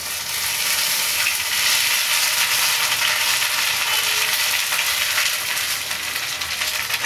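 Ginger paste frying in hot oil for a rui fish kalia, a loud continuous sizzle that stays steady and close throughout.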